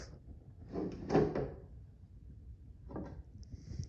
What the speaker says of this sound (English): You then pull the drawer out a little, like that, and that releases the lid